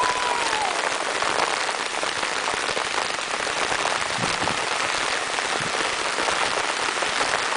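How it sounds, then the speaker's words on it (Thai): Steady, dense rain pours down without a break, a loud even hiss of drops striking a surface. "อัมเบ้ฝนตก"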